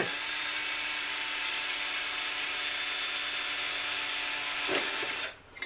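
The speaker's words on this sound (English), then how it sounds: "Drill that hole, and then I just work up from there" A power drill whirs steadily at high speed for several seconds, then winds down and stops near the end.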